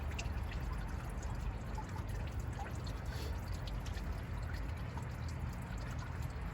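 Coolant gushing out of a Jeep as its water pump is removed, a faint, continuous watery pouring and trickling with scattered drips, heard alone.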